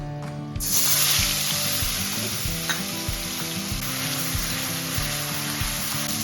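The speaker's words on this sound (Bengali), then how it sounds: "এবার পেঁয়াজটা অল্প করে যেন ভাজা ভাজা হতে দেবে, যাতে পেঁয়াজের কাঁচা গন্ধটা চলে যায়।" Onion paste frying in oil with bay leaf and chilli for a Bengali dahi katla fish curry, giving a steady close sizzle with periodic scraping stir strokes throughout.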